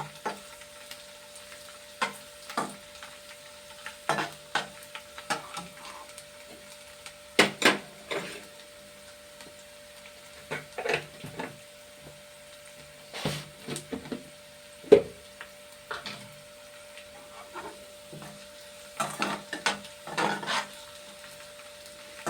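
Garlic pieces frying in a pan, faint low sizzle under sparse scraping stirs and knocks of a spoon against the pan at irregular intervals, quiet and close with no talking.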